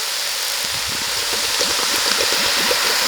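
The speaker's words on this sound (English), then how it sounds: "Let me pour in some broth." Broth pours steadily into a pot of lentils, a close, continuous splashing gurgle with rapid bubbling pops, alone without any talk.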